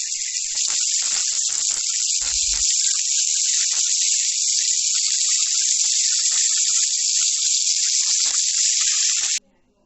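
Steady loud sizzling of chicken fillet frying in a hot pan, a continuous hiss that cuts off abruptly at the end.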